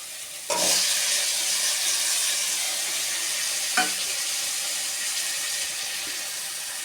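Fried rohu fish pieces being sautéed with green chilies in a pan: a steady close sizzle with a couple of sharp utensil knocks, no talking.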